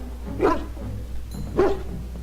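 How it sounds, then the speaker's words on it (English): A dog in the video game Dragon Age: Origins gives two separate barks about a second apart, moderately loud over a low steady game background hum. "He's barking and stuff."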